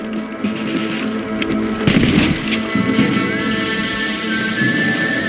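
Rifle gunshots ring out in the Red Dead Redemption video game, a loud burst of sharp cracks with echoing tails, followed by further scattered shots over game ambience.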